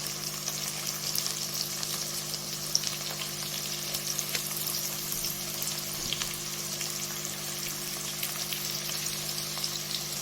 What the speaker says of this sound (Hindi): तो इन सारी चीज़ों को हमने थोड़ी देर फ्राई कर लेना है।